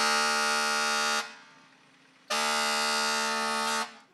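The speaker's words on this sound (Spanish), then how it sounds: "Alerta de eventuales oscilaciones que incluso han establecido una alarma de evacuación." A building evacuation alarm in Chile sounds in two long, loud, steady blasts of a harsh buzzing horn, separated by a brief gap.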